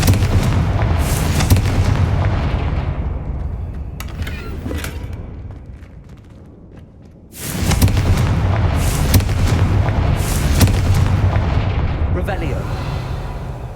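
Loud fiery blasts from the Confringo spell in the game Hogwarts Legacy, heavy booming bursts rolling on without pause, dipping briefly before a fresh volley of explosions crashes back in.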